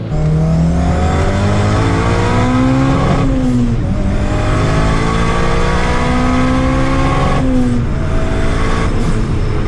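A Mazda RX-7 fitted with a turbocharged Honda engine accelerates hard on a pull-off, its loud engine note rising through repeated gear changes with brief dips between shifts, steady and close throughout.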